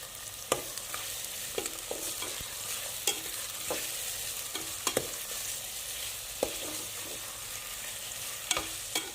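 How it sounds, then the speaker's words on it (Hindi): Chopped onions fry in oil with a soft, even sizzle, and a spoon knocks and scrapes against the pan in scattered, sharp stirring taps. The sound is close but fairly quiet, with no speech. "अब हमें सबसे पहले जो है वो प्याज ब्राउन करनी है। मैंने ऑयल लिया है"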